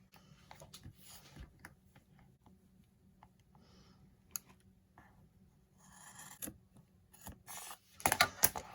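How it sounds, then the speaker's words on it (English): Scissors snip and rasp through fabric while cutting out a face mask pattern, soft rubbing and sliding sounds close by, with several sharper clicks toward the end. "So now I'm just going to take my scissors and I'm going to cut it out."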